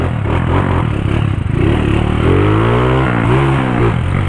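A motorcycle engine revved hard on the throttle, loud and close, a rough clattering idle rising into sweeping climbs in pitch as the revs go up and back down.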